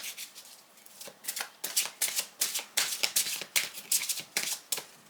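Tarot cards being shuffled in quick, rapid riffles, close and crisp, with short pauses between bursts.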